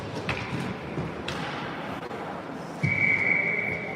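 A referee's whistle shrills at an 18U youth ice hockey game after the goalie gloves the puck, one sustained blast near the end over rink crowd noise and thuds.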